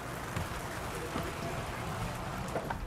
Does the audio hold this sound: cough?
no